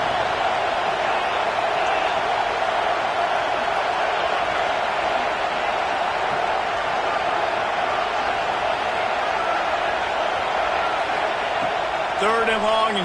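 A home football crowd roars in a stadium, a broad steady wall of loud cheering that carries on without a break, while an announcer talks over it.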